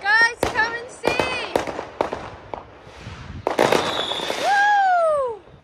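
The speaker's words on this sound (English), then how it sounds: "we hear all this banging, and then we realize we think it's fireworks" Fireworks go off over London, heard from a rooftop: whistling rockets rise and then burst in loud bangs with crackle, and a long descending whistle comes near the end.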